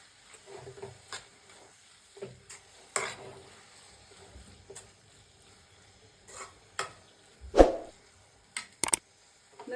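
Soaked poha being stirred in a pan, irregular scraping and clinking strokes with soft sizzling between them, close and fairly quiet, without talk.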